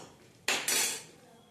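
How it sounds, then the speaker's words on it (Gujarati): A spoon stirs ghuto, a Gujarati boiled-vegetable dish, in a metal pot: two quick metallic clanks close together, followed by a short ringing clatter that fades, heard close with no talking. "હવે આપણે આને થોડું હલાવી નાખીએ"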